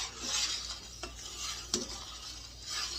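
Strawberry rhubarb jam made from frozen fruit being stirred in a pot on the stove, soft scraping sweeps and faint bubbling with a couple of light spoon taps, quiet and close.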